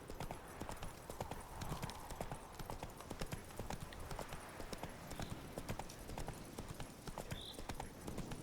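Horse hooves clip-clop steadily and close while riding in The Witcher 3 video game, a continuous rhythmic trot running through the whole stretch with no talk over it.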